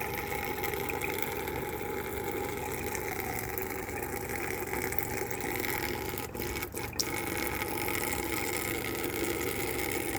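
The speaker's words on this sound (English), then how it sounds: "I won't bore you with 20 minutes of water flow" Tap water runs in a steady, continuous rush while water lines are being hooked up, loud and unbroken for the whole stretch, with a brief dip and a couple of faint clicks partway through and no talking.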